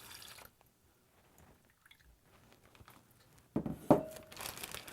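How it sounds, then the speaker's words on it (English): A plastic zip bag holding pork loin in a rum marinade rustles and crinkles in a short close burst near the end, after mostly quiet handling. "Zip up my bag."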